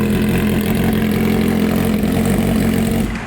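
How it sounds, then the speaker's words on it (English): Motorcycle with an Aero exhaust idling, a loud, steady, low rumbling drone held close to the mic that softens slightly at the very end. "We're gonna do the sound difference between this Aero exhaust, which is the setup I'm gonna go with on my bike"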